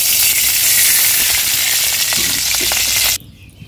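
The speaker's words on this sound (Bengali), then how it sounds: "কড়াইয়ে তেল দিয়ে দিলাম" Cooking oil sizzles loudly and steadily in a wok over a village kitchen fire, a close, bright hiss with a few small pops, cutting off abruptly near the end.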